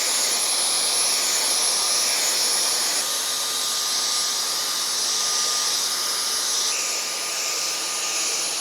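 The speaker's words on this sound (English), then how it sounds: "It's a good thing I have a vacuum cleaner right here." A steady, loud whooshing drone of a vacuum cleaner running continuously with a slight shift in pitch partway through, no voices.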